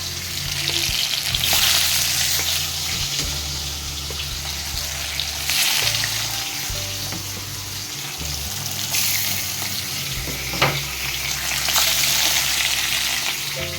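Fish sizzles steadily as it fries in a pan of oil for a fish curry, a loud continuous crackling hiss with occasional clinks and stirring sounds and a low hum underneath.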